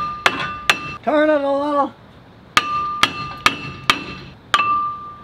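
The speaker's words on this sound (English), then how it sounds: "Like that off, get the big whacker. This one's on harder." Heavy hammer blows strike a car's brake rotor to knock it loose, ringing sharp metallic clangs in two quick hits, then a run of five evenly spaced whacks; someone speaks briefly between them.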